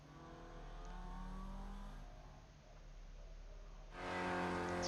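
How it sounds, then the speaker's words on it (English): Spec Racer Ford race cars lap Phoenix Raceway in the iRacing sim, a continuous engine drone that swells and fades, then rises sharply as a car revs closer near the end. "A few drivers driving around."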